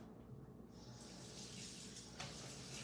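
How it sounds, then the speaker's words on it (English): Tap water runs steadily into a sink while an item is rinsed under the stream. The hiss is close and constant, and the splashing shifts as the item moves. "Let me rinse this really fast so it doesn't dry on here."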